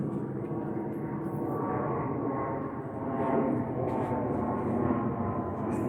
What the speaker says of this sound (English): Have a listen to this jet going over